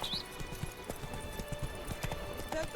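Roach, Geralt's horse in The Witcher 3: Blood and Wine, gallops with steady clip-clop hoofbeats, close and fairly soft over a quiet game ambience with a brief whinny.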